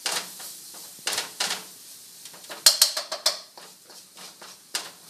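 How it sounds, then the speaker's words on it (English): Curry powder being stirred into a Thai coconut chicken curry in a pan: close, irregular scrapes, taps and light clinks of a spoon against the cookware, with short quiet gaps between strokes. "You're going to want to stir this up so it absorbs all of that"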